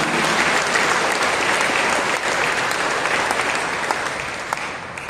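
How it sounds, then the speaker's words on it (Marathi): A church congregation claps in steady, dense applause to give thanks to God, sustained throughout and tapering slightly near the end, with no voices over it. "त्याच परमेश्वराला आपण टाळ्या वाजवून परमेश्वराला धन्यवाद देऊया"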